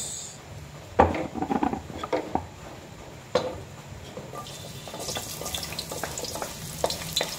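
Ginger, then onion, sautéing in hot oil in a kawali for chicken tinola, with a few spoon clatters and stirs over a low sizzle that swells into a louder, steady hiss in the second half.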